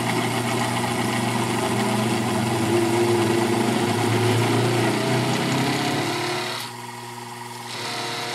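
Sherline benchtop mill motor laboring under load as a quarter-inch roughing end mill takes a heavy cut in aluminum, a steady loud strained hum with grinding cutting noise that eases near the end.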